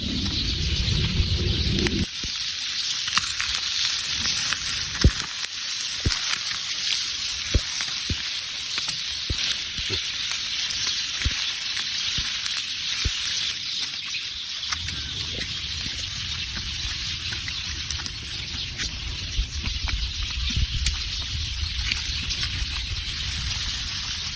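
Spicy inasal-style chicken wings and tuna grilling over heat, a continuous close hiss and sizzle with faint crackles and occasional low rumbles throughout.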